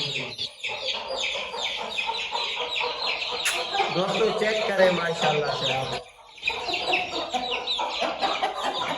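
Aseel chickens and chicks cluck and chatter constantly at close range, with a person talking over the flock throughout.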